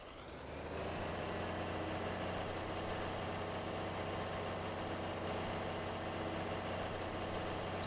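A tractor engine idles in Farming Simulator 22, a steady low diesel rumble that holds constant and fairly loud throughout, with no voices.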